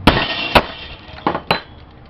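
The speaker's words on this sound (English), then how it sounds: "Smack it with a hammer." A hammer smacks metal and electronic scrap stripped from a touch lamp, four sharp, loud, close impacts spaced unevenly with a brief rattle after each strike, no talk.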